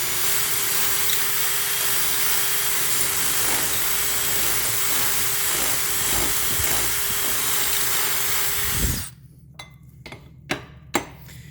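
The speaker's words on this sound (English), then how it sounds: "you want to rotate it and get as much rust out of there as possible" A rotating tool scrubs rust out of a corroded hole during front brake pad and rotor work on a 2009 Subaru Forester, a steady close whirring grind for about nine seconds that stops abruptly, followed by a few light knocks.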